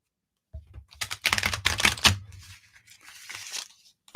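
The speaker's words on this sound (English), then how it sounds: "I always like to shuffle for each person." A deck of playing cards being shuffled: a quick series of crisp, close riffling and snapping bursts, followed by softer rustling, with no talk.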